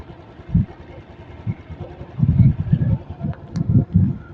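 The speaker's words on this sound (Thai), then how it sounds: "อันนี้เป็นเครื่องยนต์เดิมๆของเขาเลย" A stock-engine Honda Wave 110i motorcycle (2025 model) idles nearby with a low, uneven putter that pulses in irregular bursts, moderately loud and alone.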